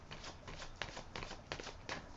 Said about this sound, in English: I will shuffle them again and rifle them one more time